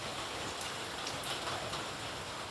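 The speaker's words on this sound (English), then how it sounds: "the drizzling are continuously since overnight" Steady drizzling rain falling continuously outdoors, a soft even hiss of fine drops with a few faint brighter patters, no voices.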